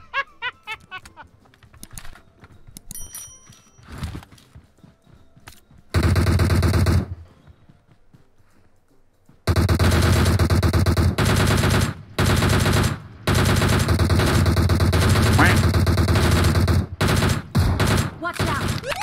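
Automatic gunfire in the mobile battle royale game PUBG Mobile comes in loud sustained bursts separated by short gaps, with scattered clicks and faint sounds in quieter stretches.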